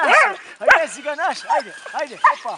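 A rescue dog in snow search training near Karlovac gives a quick run of yelping barks and whimpers, close and lively, while handlers talk and cheer it on over the calls.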